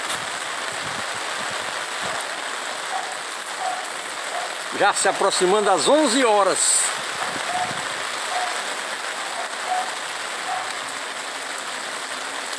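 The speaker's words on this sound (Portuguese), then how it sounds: "E chuva aqui no arco Nossa Senhora de Fátima." Heavy rain falls steadily at midday by the Nossa Senhora de Fátima arch in Sobral, Ceará, a dense, constant hiss that continues beneath someone briefly speaking.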